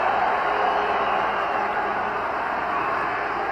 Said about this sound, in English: Listen to this Dolphin crowd.